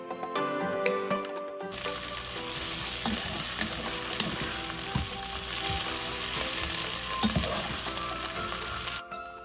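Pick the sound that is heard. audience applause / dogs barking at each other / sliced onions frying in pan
sliced onions frying in pan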